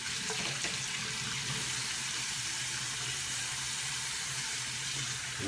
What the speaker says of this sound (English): I'm going to rinse with warm.